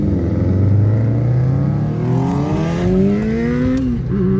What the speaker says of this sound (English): this motorcycle pulls up. I had to listen how loud this is.